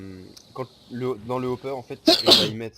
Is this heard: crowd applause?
no